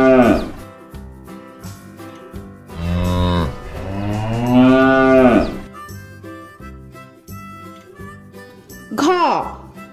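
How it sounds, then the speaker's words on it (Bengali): A cow and a calf moo over a children's alphabet rhyme track, with long, loud lowing calls in the middle and a shorter moo near the end. "গয়ে গরু বাছুর দাঁড়িয়ে আছে।"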